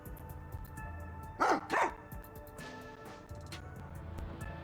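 Sugar, a dog in the game Rain Code, gives two sharp, loud barks in quick succession over quiet background music, followed by softer faint sounds.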